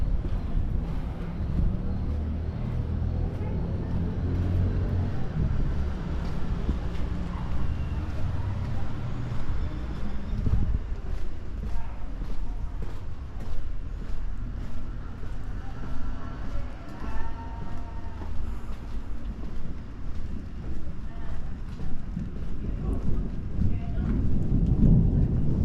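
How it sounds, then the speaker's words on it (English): Steady rain falls over the Marrakech souks, with low rumbles of thunder and gusts of wind buffeting the microphone, a continuous dense wash of sound throughout. "Sunny all day and now it's raining."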